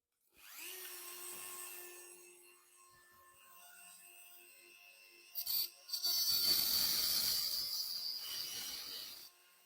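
Rotary engraver spinning a cheap Chinese diamond cutting disc, a high whine winding up and then grinding harshly against the workpiece in two bursts, close and fairly loud with no voices.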